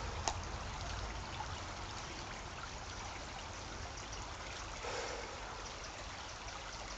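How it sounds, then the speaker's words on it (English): A babbling brook beside a river in Truro gurgles and trickles continuously, a steady close outdoor rush of water with no voices. "I'll just leave you with the Dappling Brook"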